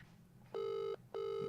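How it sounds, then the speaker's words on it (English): An old telephone heard during an outgoing call gives two ringing bursts, each under half a second, separated by a short pause, clear and alone. "I called them on the old telephone."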